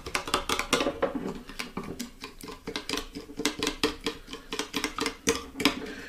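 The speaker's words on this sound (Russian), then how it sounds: "Все это высыпаем в масло и хорошенько перемешиваем до набухания." Spoon clinking and scraping steadily against a bowl while hot spices are stirred into oil for a chicken wing coating, a busy rhythm of close metallic taps with no talk.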